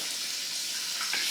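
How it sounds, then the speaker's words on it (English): Chicken pieces frying in hot oil, giving a steady, dense sizzle at close range that holds constant and rises slightly toward the end, with no talking. "These chickies are almost done frying."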